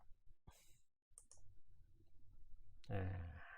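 A computer mouse clicks a save button, a few quick, close, light clicks next to a speaking voice.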